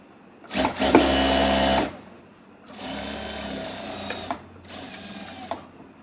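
A sewing machine runs in three bursts, stitching and joining fabric panels for a telekung prayer garment, with short pauses between runs and a clear, steady mechanical whir close by.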